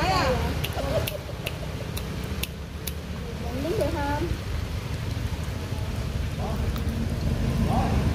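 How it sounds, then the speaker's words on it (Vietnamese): Steady rain falling on Cát Bà Island near Lan Hạ Bay, a continuous dense hiss of drops with voices talking faintly over it throughout. "Trời mưa cả nhà, ghé chú mưa."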